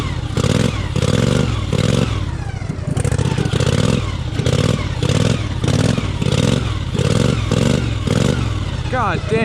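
A homemade race mower's engine revving hard in loud, close, repeated bursts, each pull rising and then cutting off in a quick rhythmic pattern, with clattering mechanical noise between them.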